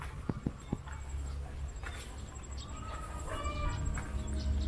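Laying hens at a poultry farm give faint, scattered clucks over a steady outdoor hum, with a few sharp knocks near the start and no speech.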